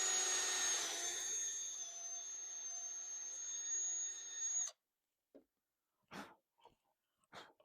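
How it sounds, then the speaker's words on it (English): A power drill bores a hole through a wooden piece for a DIY ottoman, a sustained high whine lasting several seconds before cutting off, followed by a few brief knocks and handling sounds. "drill the hole in it"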